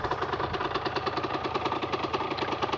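A Beta 50 RR enduro motorcycle's small two-stroke engine idles while still cold, a steady, close, rhythmic putter with even pulsing and no revving.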